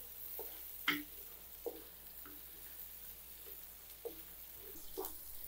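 Onion and other ingredients sautéing in a pan until golden brown for a pork loin dinuguan, a faint steady sizzle broken by a few soft clinks of a stirring utensil.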